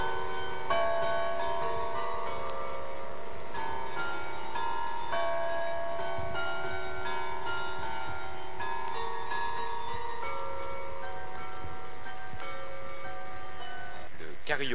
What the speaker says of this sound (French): Carillon d'Arbois chante la joie de la cité